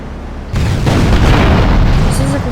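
A bomb blast in the video game GTA Liberty City Stories hits suddenly, then a loud, broad rumbling roar sustains for about two seconds with faint tonal game sounds near the end.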